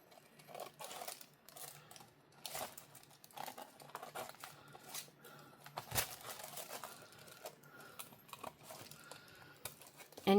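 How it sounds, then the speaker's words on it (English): Scissors snip and crunch through paper in irregular bursts, close and fairly quiet, with rustling between cuts. "Let's take the scissors and trim it up."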